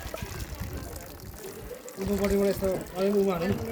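Water runs and trickles steadily from a small village tap in Nepal, with people talking over it for most of the clip.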